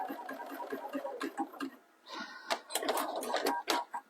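A sewing machine reverse-stitches on a small swim bag, running in quick bursts of close mechanical whirring and needle clatter with brief pauses in between.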